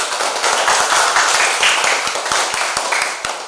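Loud, close classroom applause from pupils, brisk overlapping claps with distinct sharp hits throughout, fading slightly at the end.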